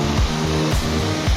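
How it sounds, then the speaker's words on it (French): Small waterfall on the Rivière Sainte-Suzanne in Réunion, with water spilling into a pool, gives a steady broadband rush that fills the short stretch at an even level with no voices. "avec une petite cascade"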